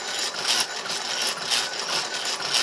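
A Jacobs gear hobber cuts a helical gear to match a worm gear, giving a steady, close metallic chattering and whirring with regular rhythmic pulses and no talk.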